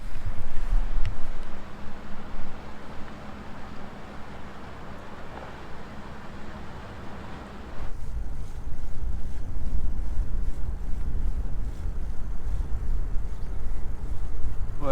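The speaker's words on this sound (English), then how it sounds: "the ferry crossing the river." A ferry crosses the Rhine river near the Loreley, with a steady low rumble of the boat under persistent wind buffeting on the microphone, growing louder and gustier halfway through.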